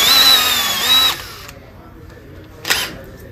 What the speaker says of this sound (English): No pressure on my drill, just letting the weight of my drill kind of push the bit in.